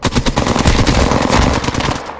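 Rapid automatic gunfire from a shooter video game, loud and continuous, with dense overlapping bursts that fill the whole moment and no voices.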